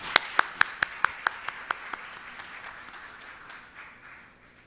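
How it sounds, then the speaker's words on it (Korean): Applause at a Korean church prayer meeting for pastors: about eight sharp, evenly spaced claps ring out in a quick rhythm, then fade into softer scattered clapping and room murmur that slowly dies away. "우리 후배들을 위해서 박수 한번 보내주세요"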